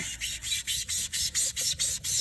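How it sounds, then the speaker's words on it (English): Dry, rasping scrubbing of the dry scrubby side of a kitchen sponge over smooth hard plastic, in about nine even back-and-forth strokes with brief pauses between them. "what I'm going to use to rough it up is just like the scrubby end of a kitchen sponge"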